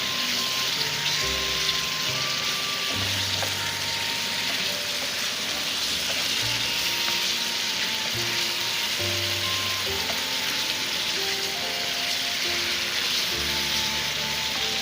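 Chicken pieces frying in a pan for a bhindi (okra) and ridge gourd chicken curry, a steady loud sizzle running throughout with low clattering stirs and scrapes underneath.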